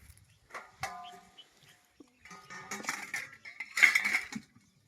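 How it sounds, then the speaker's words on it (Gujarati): Metal utensils clink and clatter as they are washed, short bright knocks coming in scattered bursts, fairly close, with quiet gaps in between. "આ જો વાસણ ધોઈ ધોતા ધોતા કેટલી વાર લગાડા"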